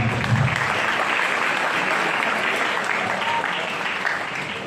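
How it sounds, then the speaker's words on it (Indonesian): A crowd at an Islamic arts competition event claps steadily and loudly throughout, a dense wash of applause that eases off slightly toward the end. "tepuk tangan semuanya"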